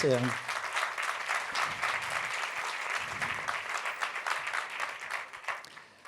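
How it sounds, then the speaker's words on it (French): Audience applause fills a conference hall in a steady, dense wash of clapping from many hands that runs throughout, easing slightly toward the end, with a brief voice at the start. "Mais on peut les applaudir."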